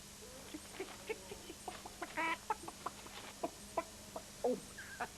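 Chickens clucking in short, scattered bursts, a few louder squawks among them, fairly quiet and close with no talking.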